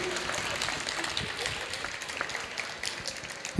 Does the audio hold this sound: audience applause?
yes